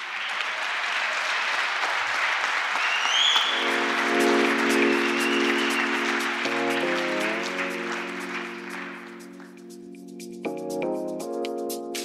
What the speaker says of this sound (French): Alors on peut tous applaudir Denis Cluzel qui a osé de proposer une vidéo